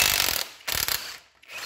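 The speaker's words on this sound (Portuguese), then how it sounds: "vou afrouxar com a chave de impacto" Impact wrench loosening a motorcycle wheel axle nut: two short bursts of rapid, rattling hammering, close and fairly loud, separated by brief pauses.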